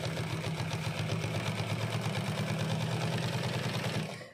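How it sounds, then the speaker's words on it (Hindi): GC-0303DCX heavy-duty top-and-bottom-feed industrial sewing machine stitching at high speed, a steady rapid mechanical hum with rhythmic needle chatter, close and continuous for about four seconds before winding down. "अब मैंने एक पौड़ी को सिलाई मारना है"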